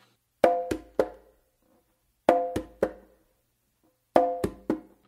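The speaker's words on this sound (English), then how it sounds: "You start with an open slap with your right hand." Conga strokes, an open slap followed by bass and finger strokes, played as three sharp hand hits repeated three times in an even pattern with pauses between groups, close and clear with no talk.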